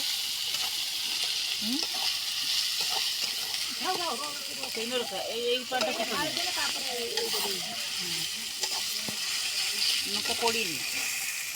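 Steady sizzling of chili frying in hot oil runs throughout, with a person talking over it.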